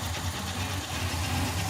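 A Pontiac Firebird's V8 engine with heavy blow-by idles close by with a steady, lumpy low rumble and a rhythmic pulsing throb, no one speaking.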